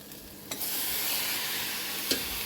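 Tomatoes added to a simmering curry in a pan, a steady sizzle with two brief scraping stirs, close and fairly soft with no voices.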